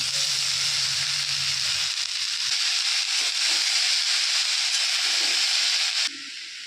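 Chopped pumpkin greens sizzle loudly and evenly in a hot pan with spices, a continuous bright hiss while being stirred, dropping abruptly to a quieter sizzle near the end.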